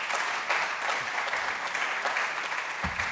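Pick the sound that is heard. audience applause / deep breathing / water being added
audience applause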